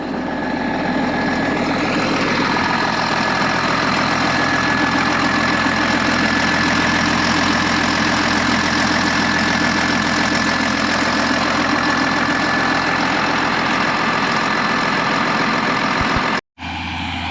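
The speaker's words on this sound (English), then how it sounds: "That's the easiest that engine has started." Engine idling steadily and loudly after a cold start, a continuous rumble with a faint knocking character running unbroken until it cuts off abruptly near the end.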